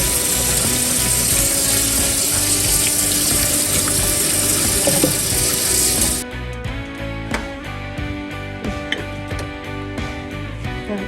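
Cow feet and cowskin are washed by hand in water for peppered cowskin, giving a steady run of splashing, sloshing and clattering up close, with no talking.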